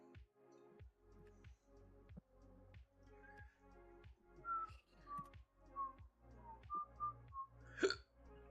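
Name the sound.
hiccups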